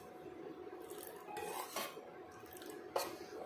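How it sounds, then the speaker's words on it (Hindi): Ragi porridge being stirred in a pan over a low flame, with soft scraping and rubbing strokes of a spoon against the pan and a small clink, fairly faint and with no talking. "इसको स्टेयर करते जाते हैं ताकि इसमें कोई लंप ना बने।"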